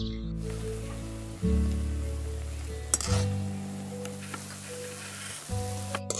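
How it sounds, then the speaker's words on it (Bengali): Tomato-flavoured kurkure snacks sizzle as they fry in hot oil, giving a steady crackling hiss under background music, with a few sharp clinks along the way. "এগুলো ভাজলে সব ভাজা হয়ে যাবে।"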